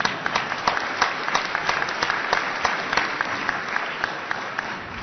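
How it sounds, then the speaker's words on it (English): Audience applause for two volunteers called onstage at an energy innovation conference presentation session, a steady, dense wash of clapping from a sizable crowd with scattered sharper claps standing out, continuous and fairly close throughout. "Give them a warm round of applause"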